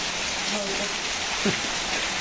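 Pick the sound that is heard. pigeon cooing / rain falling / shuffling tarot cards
rain falling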